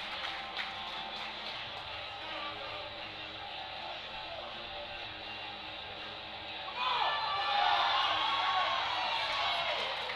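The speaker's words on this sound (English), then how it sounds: "We've got the crowd getting pumped for Russ Lowell." At a USA Powerlifting Raw Nationals meet, an indoor crowd builds up for a lifter, with a steady murmur swelling into louder cheers and whoops in the second half.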